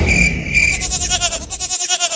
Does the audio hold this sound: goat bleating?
yes